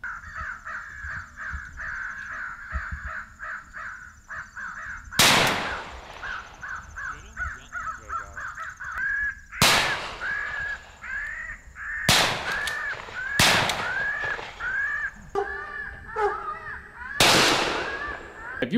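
Crows cawing steadily during a crow hunt, a chorus of repeated harsh caws, interrupted by several sharp loud shotgun blasts.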